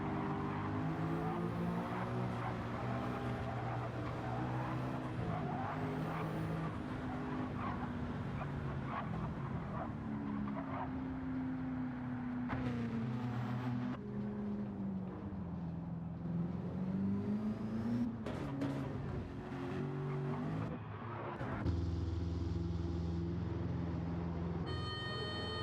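Group C Porsche race cars in a racing game at Le Mans, with a continuous loud engine drone whose pitch rises and falls through gear changes and corners, the tone shifting near the end.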